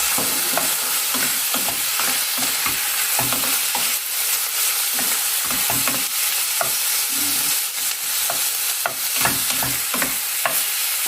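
Pork belly hits a hot pan with aromatic garlic, sizzling and frying steadily while a utensil stirs and scrapes in frequent clacking bursts, close and loud with no talking.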